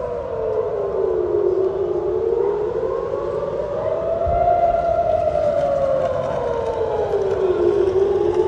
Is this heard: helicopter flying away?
no